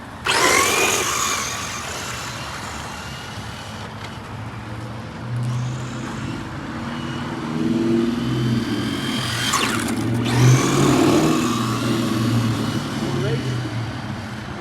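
Traxxas GT4 Supra radio-controlled car racing a Mustang RC car, its electric motor whirring and rising near the camera with bursts of higher whine, while people talk over it throughout.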